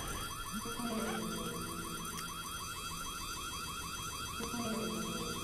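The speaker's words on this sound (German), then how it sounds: "um den Alarm auszuschalten" A rapid warbling electronic alarm in the horror video game White Day, looping continuously at moderate level with a brief break and restart near the end, no talk over it.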